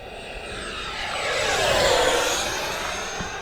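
An FMS F-16C 70mm EDF radio-controlled jet flies past at full throttle, its loud ducted-fan whine swelling to a peak and sweeping down in pitch as it passes, then fading slightly.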